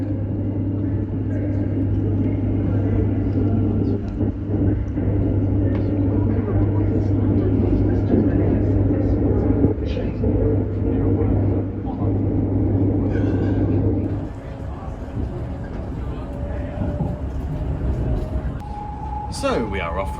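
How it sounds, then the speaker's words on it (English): Interior of a Class 730 electric train departing London Euston, a steady low motor hum and rumble that drops abruptly, then lighter rolling noise with rising tones, with people talking on board. "So we are off from Euston on our lovely train."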